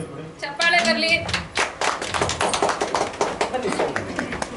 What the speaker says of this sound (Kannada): ಕೊಡಿ ಚಪ್ಪಾಳೆ ಬರ್ಲಿ